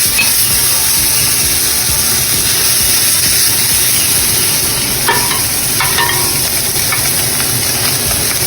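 Ginger and green onion stir-frying in a hot pan for a Filipino palabok, with steady loud sizzling and scraping of stirring throughout, a few brief clinks near the end.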